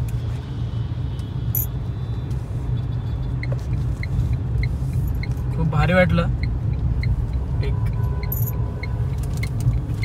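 A car on a road trip sits in light traffic near Belapur, its steady low engine rumble and road noise filling the cabin, with a few clicks and a person talking over it.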